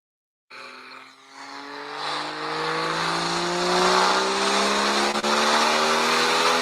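A Nissan Skyline R32 fitted with a 2JZ engine, making about 400 wheel horsepower, pulls hard on a dyno: a loud, sustained engine roar that climbs steadily in pitch for several seconds without a break.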